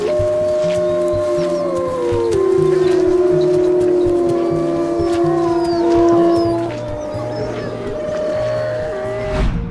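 Several dogs howl together in a sustained, overlapping chorus during a joyful reunion, long wavering tones rising and falling for most of the stretch, with a steady low rhythmic engine-like drone underneath.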